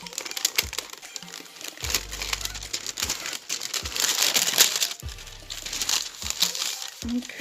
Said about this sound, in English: So it has this cute tissue paper with the sticker.